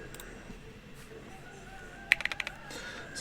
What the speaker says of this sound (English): So just gonna do a little bit of typing and hope you guys enjoy.